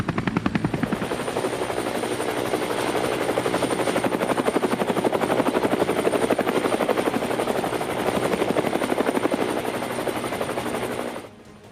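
An HAL Prachand light combat helicopter flies over Bengaluru at the Aero India 2023 air show, its rotor beating in a loud, rapid, steady chop with a sustained turbine whine, holding strong for over ten seconds before cutting off.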